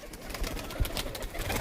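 Chini Kaldum pigeons cooing inside a loft, a low soft continuous murmur of several birds close by with steady ambient rustle and no clear talk.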